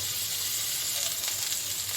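Young jackfruit frying in hot oil gives a steady, close sizzle with a bright hiss running through the whole stretch, at even loudness and with no talking.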